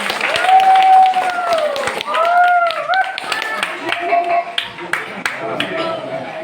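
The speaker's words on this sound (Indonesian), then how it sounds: "Tepuk tangan." An audience claps at a formal visit ceremony in Lubuk Kakap, Hulu Sungai, steady hand clapping running throughout, mixed with a tonal voice or singing over the crowd.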